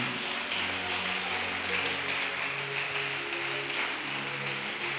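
A church congregation applauds together during a sermon, a steady wash of clapping with sustained music underneath and no talking.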